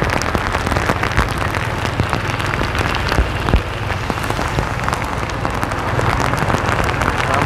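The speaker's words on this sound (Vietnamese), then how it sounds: "Mưa tầm tã luôn, mưa rất là lớn." Dense, steady downpour of heavy rain pounding surfaces in Cau Kho, District 1, Saigon, a constant loud hiss with no voices.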